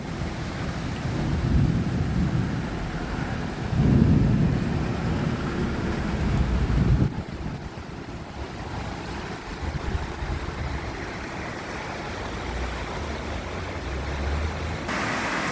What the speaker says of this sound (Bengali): বলতে না বলতেই মুষলধারে বৃষ্টি শুরু হয়ে গেল